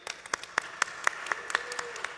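A small scattering of conference panel audience members clap in a sparse, fairly steady rhythm of distinct, moderately faint handclaps for a couple of seconds, with no talking over them.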